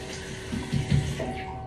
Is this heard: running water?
yes